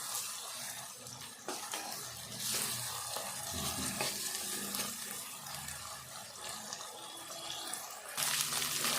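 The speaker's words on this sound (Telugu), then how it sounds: "ఈ ఉల్లిగడ్డ అంతా ఇట్లా దగ్గర వేగాలి." Onions frying in a pan with curry leaves and ginger-garlic paste for an old-style raw fish curry, a steady broadband sizzle with stirring scrapes throughout, close and fairly loud, no talking.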